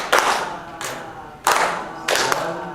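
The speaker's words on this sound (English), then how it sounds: "Ready to clap this one, everybody?" A group claps a rhythm together in unison, with four loud, sharp bursts spaced about half a second apart and some crowd noise between them.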